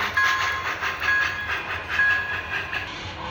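An MTH model train's first-version Proto Sound 3 system plays chuffing steam-locomotive effects with a rhythmic hiss and faint whistle-like tones, moderately loud and close.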